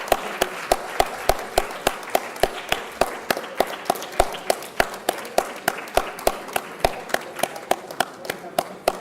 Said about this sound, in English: Give big round of applause, everybody.